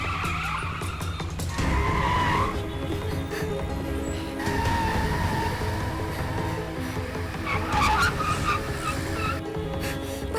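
A car races after an auto-rickshaw in a high-speed chase, tyres skidding and squealing over a steady engine roar, with dramatic music pulsing underneath throughout.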